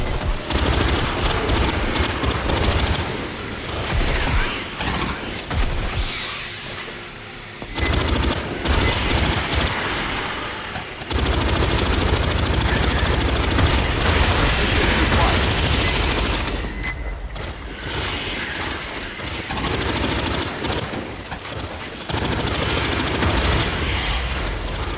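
Sustained gunfire in the sci-fi shooter Aliens: Fireteam Elite, dense bursts and rattling automatic fire nearly continuous for the whole stretch, loud and close, with brief lulls and shouted voices mixed in.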